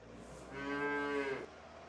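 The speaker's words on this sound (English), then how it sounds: "Natalie heard the cow making a mooing noise" A single cow moos once, a drawn-out, clear low call at moderate distance over quiet background, with no talk.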